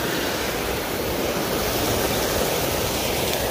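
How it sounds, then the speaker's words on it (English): Jewett Creek near Lake Ripley in Litchfield, Minnesota, rushes in a steady, dense broadband wash, close and loud, with no talking. "I believe this is Jewett Creek."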